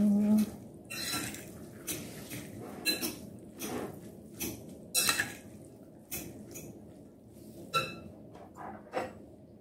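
Tabbouleh ingredients being mixed in a bowl with olive oil: repeated soft clinks and scrapes of utensils against the bowl come in irregular bursts with moist squishing between them. No one speaks.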